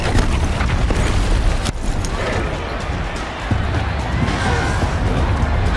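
A stone pillar and raised platform collapse in Horizon Zero Dawn, a sustained heavy crumbling rumble with crashing impacts and a sharp crack partway through, loud and dense throughout.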